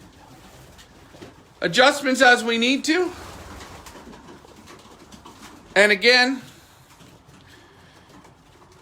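Racing pigeons coo in a race loft, with two bursts of warbling, throaty cooing up close while someone talks quietly in between.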